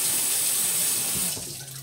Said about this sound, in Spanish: Ahora me lo voy a sacar con agua fría.